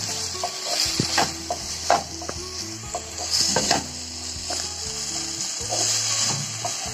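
A spoon stirs a ridge gourd and peanut stir-fry in a pan, scraping and clinking irregularly over a steady close sizzle, with no voices.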